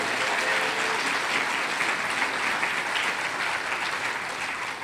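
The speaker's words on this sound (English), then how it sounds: "They really don't need to applaud" Sustained applause from a crowd at a British political speech, a dense, even roar of clapping that holds steady for several seconds without talk.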